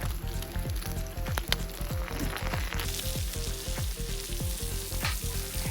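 Smash burger patties sizzle steadily on a cast iron skillet griddle outdoors while camping, a loud continuous fry with repeated scraping clinks of a spatula against the metal.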